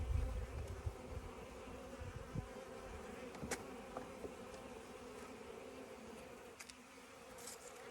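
Bees of a weak colony at their beehive: a faint, continuous buzzing hum, steady throughout, with a few individual insects passing close by and no voices.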